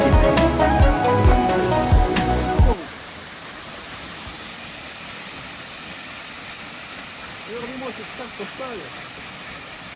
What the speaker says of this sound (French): on vient d'arriver à la cascade de Saillant-la-Cascade